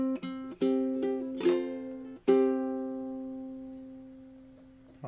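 Fingerstyle ukulele plays the final measure of a carol: a few plucked notes, then a chord left ringing and slowly decaying, clear and close in a quiet room.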